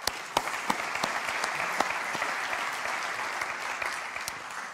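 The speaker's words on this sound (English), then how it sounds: "I think a round of applause" Conference audience applauding at the close of a talk, a steady dense patter of many hands with a few sharper nearby claps standing out, sustained without pause and with no voices over it.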